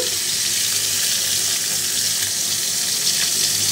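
Garlic sizzling in hot oil in a frying pan, a steady dense hiss that stays loud and even throughout with no talk.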